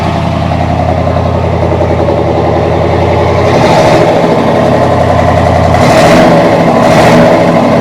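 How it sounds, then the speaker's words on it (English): A 1969 Hurst Olds 442 V8 idles with a deep, lumpy rumble, then revs sharply twice, the exhaust roaring loud and close before settling back. "Back here, listen to that exhaust."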